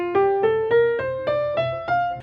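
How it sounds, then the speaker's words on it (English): An eight-note major scale climbing step by step, each tone struck separately in an even rhythm of about one every third of a second, clear and close with no voices. "A major scale is 8 notes long and sounds like this."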